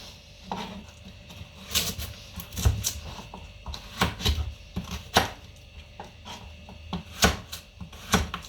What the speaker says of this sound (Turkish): Şöyle hemen bunu da doğrayalım.